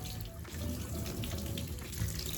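Water runs steadily from a tap to wet a freshly covered tattoo, making a close, continuous hiss and splash with no voices.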